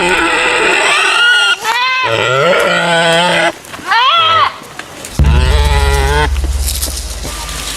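Goats and a pig bleating and squealing at a Boti tribal sacrificial ritual, a series of loud, close, wavering animal cries with short gaps between, ending in a harsh noisy burst.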